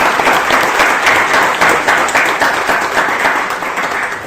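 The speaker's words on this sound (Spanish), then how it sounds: "Y un aplauso para el Guille" An audience applauds a guest speaker at an architecture talk, dense sustained clapping from a full room, loud and even throughout with no pauses.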